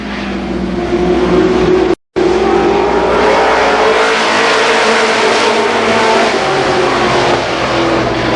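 Stock cars race around the Columbus Motor Speedway oval, engines roaring loud and continuous, with a rising and falling drone as the pack passes and a brief dropout near two seconds.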